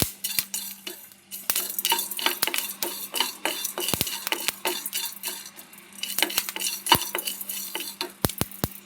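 Spices being lightly dry-roasted in a pan, stirred with a utensil in quick, repeated scrapes and sharp metallic clicks against the pan, close and clear with only a faint sizzle and no voices.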